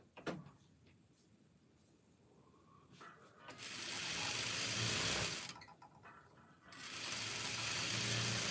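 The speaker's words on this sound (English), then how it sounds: "So the faster I sew, the stuff from my desk moves." A sewing machine stitches in two loud, fast bursts of rapid mechanical whirring, separated by a short pause, after quieter clicks and handling of the machine; the desk rattles with the motion.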